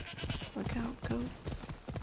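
Two short, nasal bleats from goats in a video game rise over a busy background of game noise and movement, fairly close and loud.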